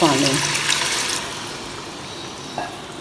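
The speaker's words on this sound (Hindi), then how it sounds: "پانی ڈال کے تھوڑا سا ہلا لیتے ہیں ساری گریوی کو" A cup of water is poured into a pan of masala gravy for kebabs, making a brief rushing splash that quickly fades into a quiet sizzle.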